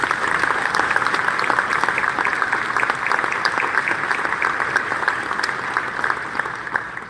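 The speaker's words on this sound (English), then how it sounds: "Please join me in giving a huge round of applause to everyone who made this unforgettable week possible." Convention attendees applaud in a round of sustained, loud, dense clapping that stays even for several seconds and tapers slightly at the end.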